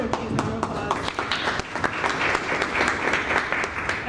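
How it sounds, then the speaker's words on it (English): Audience applause at a regional legislative summit on ferries, a steady wash of many hands clapping close by for about four seconds, filling the room without pause. "everyone please round of applause"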